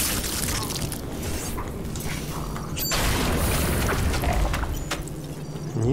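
Enemies blowing up in the action game The Surge, heavy booming blasts with metallic clanks and crunches over dense mechanical game noise, loud and continuous throughout.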